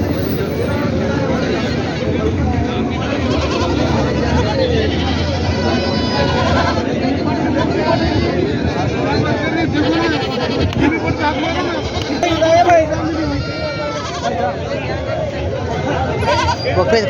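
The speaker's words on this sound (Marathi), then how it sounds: "तर या ठिकाणी पाहू शकता बकरी आहेत" Goats bleat repeatedly amid a noisy crowd at a goat market in Vasmat, with people talking and a general hubbub of babble filling the background throughout.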